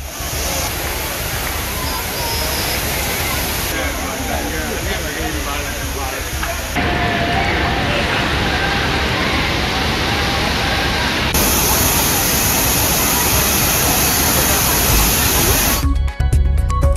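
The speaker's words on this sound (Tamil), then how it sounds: "அருவியில் கொட்டும் தண்ணீரின் அளவும் அதிகரித்துள்ளது" Steady, loud roar of a waterfall pouring into a pool at a bathing spot, a continuous rushing wash of water lasting throughout, heard close and alone.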